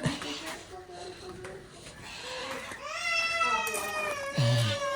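A cat meows several times, drawn-out and wavering, close by, with another faint voice in the background.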